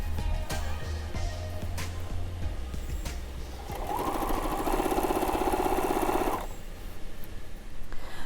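A sewing machine hums as it sews a folded quarter-inch hem on a saddle dust cover, starting partway through with a steady, loud run of needle clatter for a couple of seconds before it stops.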